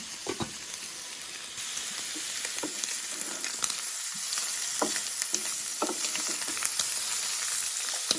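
Pork belly fat sizzles and crackles in a pan over high heat, browning rather than rendering, a steady frying hiss with scattered sharp pops throughout.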